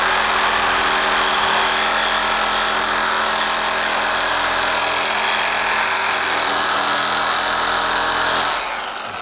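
A power tool blade grinding through a hardened bolt while replacing the battery tray on a 2001 EZGO TXT 36-volt electric golf cart, a loud, continuous harsh whine with steady tonal bands that winds down just before the end.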